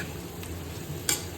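Adobo being stirred in a pan after seasoning with pepper and salt, a soft steady scraping and sizzle running throughout, with one brief louder scrape near the end.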